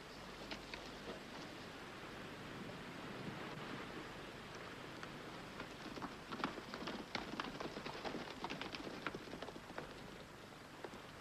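A horse's hooves clip-clop in a steady, quickening rhythm under a hissing, windy background on a 1948 western soundtrack, faint and somewhat distant.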